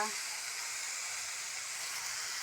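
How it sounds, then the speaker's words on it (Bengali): Fenugreek greens and potatoes fry in a pan, giving a steady, close sizzling hiss that runs evenly for the whole stretch. "এটা মেথি শাক আর আলু ভাজা"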